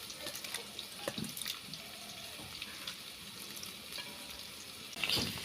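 Boiled soybeans are rinsed under a running kitchen tap, a close, steady splash and hiss of water that swells into louder splashing near the end, with no talking.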